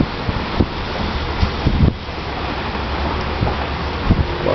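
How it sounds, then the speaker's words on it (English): Strong wind gusts ahead of Hurricane Sandy buffet the microphone in New York, a steady roar with several sharper gust peaks and no talking. "Well, wind gusts are actually considerably stronger."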